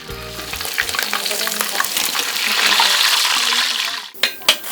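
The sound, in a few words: duck frying in hot oil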